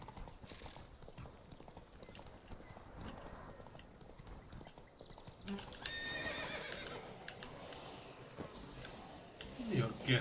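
Roach, the horse in The Witcher 3 Blood and Wine, galloping with rapid hoofbeats and breaking into a loud neigh partway through, the hooves continuing close up with a voice talking faintly underneath.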